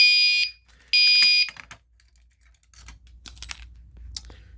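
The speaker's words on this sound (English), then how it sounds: "if you let go of it, the alarm will sound" Fire alarm panel sounding during a system test, giving two loud electronic buzzing blasts close by, then falling quiet into faint clicks and handling noise.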